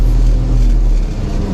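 An engine with a lot of throttle applied gives a loud, close, low rumbling roar that holds steady for the whole moment.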